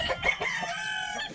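Chickens kept in a coop cluck and squawk close by, a short burst of several overlapping calls including a drawn-out crow-like note, with no one talking.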